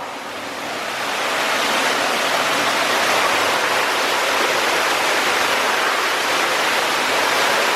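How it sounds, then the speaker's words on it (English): Spring water and river water from Table Mountain rush into an underground collection chamber, a dense, steady roar that swells in over the first second and then holds loud and unbroken. "Inside the chamber here is a collection of all the spring, as well as some of the Clip River coming down Table Mountain."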